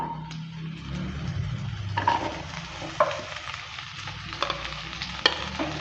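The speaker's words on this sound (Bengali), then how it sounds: "ভেন্ডিটা দেওয়ার পর ভালো করে আবারও নেড়ে চেড়ে দিচ্ছি" Okra, or bhindi, frying in a pan with red lentils, a soft continuous sizzle broken by several sharp scraping knocks as it is stirred, close by with no voices.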